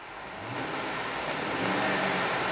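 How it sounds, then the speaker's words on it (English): A 2007 Chevrolet Tahoe LTZ engine roars steadily as it is revved, a broad, rushing sound that swells gently and holds, with no talking. "I'm going to go ahead and rev it, so keep an eye on the left-hand dial."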